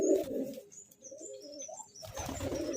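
Kobita breed pigeons coo up close, soft throaty rolling calls repeating through a quiet pause, with faint rustling and a brighter chirp mixed in.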